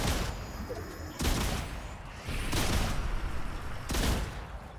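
Bursts of rapid gunfire from a Fortnite match with an auto shotgun in use, several loud volleys separated by brief pauses.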